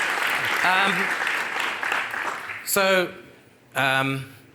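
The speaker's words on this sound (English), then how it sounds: "Another round of applause, please" Applause from a conference main-stage audience at FYUZ 2025 fills the opening seconds, then thins out as a voice takes over and speaks clearly above the fading clapping.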